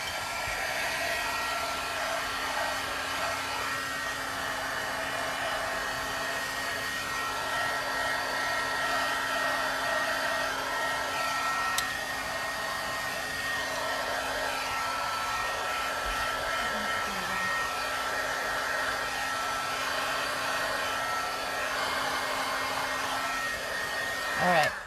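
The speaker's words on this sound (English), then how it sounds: "Let me grab the gun. We can dry it gently." A heat gun blows steadily for a long stretch while drying embossing powder on a stamped card background, a continuous even whooshing hum at moderate loudness with no talking.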